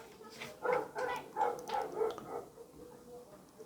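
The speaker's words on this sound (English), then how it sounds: "You hear the dogs out there?" Several dogs bark outside in a rapid cluster of muffled barks and yips, heard at a distance through the walls, fading out after a couple of seconds.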